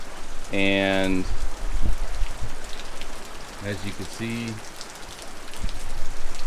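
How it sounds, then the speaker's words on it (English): Monsoon rain falls steadily on an overcast farmstead, a continuous hiss of drops on surfaces throughout, with a person speaking briefly over it and a few short tonal sounds breaking in. "This isn't even really super heavy rain, but it is, you know, nice overcast, good clouds."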